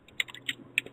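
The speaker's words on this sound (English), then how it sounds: "Oh, I hear you typing, John." Several quick keyboard keystrokes tap out in an uneven rhythm, close and crisp against a quiet background.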